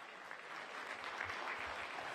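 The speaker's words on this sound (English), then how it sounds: "Let's give them a big round of applause." A crowd at a Tachi Palace Fights event at the Tachi Palace Hotel and Casino applauds the Lemoore High School NJROTC color guard. The clapping is a faint, distant, continuous wash with no voices over it.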